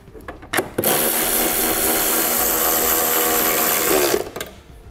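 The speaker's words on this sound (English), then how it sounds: "replace the two Torx bit bolts" Power driver running Torx bit bolts in to secure a trailer wiring harness housing on a vehicle, a loud close whirring burst lasting about three seconds after a few brief clicks, with no talk.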